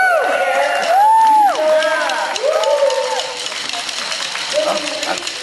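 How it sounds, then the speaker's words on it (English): An audience at a corporate sales training event whoops and cheers, several loud, arcing shouts overlapping in quick succession before easing into a softer crowd murmur. "let's give our enlightened men a round of applause"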